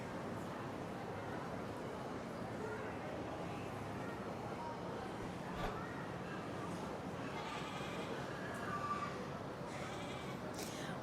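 Goat bleats at a goat show, set in a steady background of crowd murmur and nearby voices, with a couple of brief, faint calls rising above the chatter.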